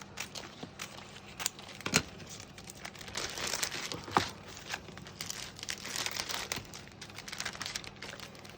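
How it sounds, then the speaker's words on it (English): Double-sided tape being peeled off a plastic-wrapped fake sweet craft, heard as close, quiet crinkling, crackling and tearing with scattered sharp ticks and no talking. "we need to do away with the double-sided tape attachment now."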